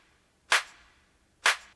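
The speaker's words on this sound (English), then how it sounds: "So nice kind of slightly analog drum machine sounding clap" Two sharp, bright clap hits about a second apart, each with a short noisy decay, from a slightly analog drum-machine-style clap sample taken from a deep tech top loop, heard alone and clean.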